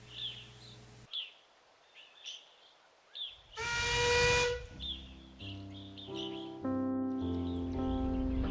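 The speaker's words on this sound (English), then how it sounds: "let off steam gently" A small steam locomotive lets off a loud burst of hissing, whistling steam for about a second, with birds chirping around it and steady tones afterward.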